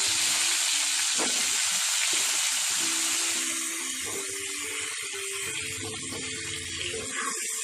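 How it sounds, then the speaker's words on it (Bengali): Large pieces of cauliflower frying in hot oil seasoned with a little salt and turmeric: a loud, steady hiss and sizzle throughout, with an occasional clink of a utensil against the pan. "দিয়ে আমি বড় বড় করে কেটে রাখা ফুলকপিগুলোকে ভেজে নেব"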